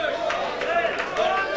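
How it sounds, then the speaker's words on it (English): A church congregation raises a loud, blended shout of praise after a prayer, many voices overlapping in a sustained crowd roar with no clapping standing out. "Give him a shout."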